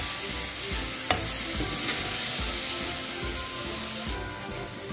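A spoon stirs curry with tomato sauce and cinnamon in a sizzling pan, with steady frying hiss under repeated scraping strokes at a regular rhythm, close and moderately loud.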